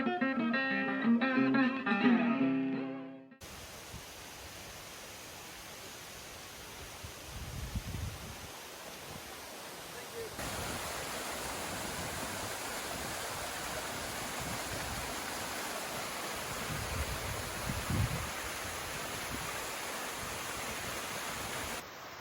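A waterfall in Shenandoah National Park gives a steady, full rushing roar that runs unbroken for about twenty seconds after a few seconds of music fade out, with no talk over it.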